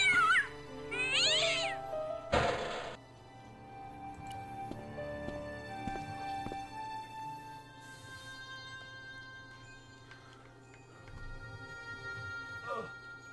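A cat in the Broken Sword Director's Cut adventure game gives a few short meows near the start, followed by quieter game ambience and faint scattered sounds.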